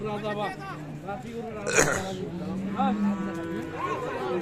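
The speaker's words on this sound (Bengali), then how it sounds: "আর অনেক গরু আছে কিন্তু সুন্দর সুন্দর গরু আছে" Cattle, including Friesian cows with calves, low and moo intermittently amid a busy cattle market in Dinajpur, Bangladesh, with people talking over the animal calls close by.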